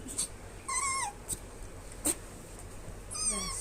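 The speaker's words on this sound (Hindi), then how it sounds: "देखिए फ्रेंड, मैं कुत्ते को मार रही हूँ।" A dog whimpers softly in a few brief, wavering, high-pitched cries separated by pauses, with faint breathing and small noises between them.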